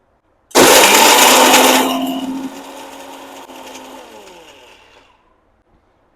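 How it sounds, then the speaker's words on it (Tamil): An electric blender coarsely grinds makhana with roasted cashews and almonds into a crumbly mix for healthy laddu, roaring loudly at full speed, then dropping in pitch and spinning down over several seconds before stopping. "இப்போ இதெல்லாம் வந்து நம்ம குறை குறைன்னு அரைச்சிப்போம்"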